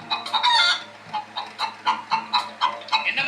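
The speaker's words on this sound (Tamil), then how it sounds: "உயிரோட உள்ள கோழிய அலை கத்திக்கிட்டு வந்துட்டாப்புல" A live hen squawks loudly while being carried, giving a rapid run of harsh, frantic clucks and cries in short repeated bursts, close by.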